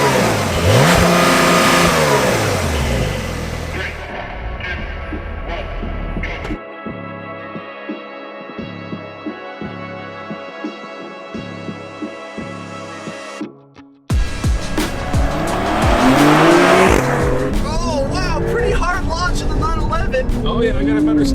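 A Nissan Z and a Porsche 911 launch side by side in a drag race, engines revving loudly, then a rising, shifting acceleration roar with a gear-change break before a second strong surge, heard from inside a car.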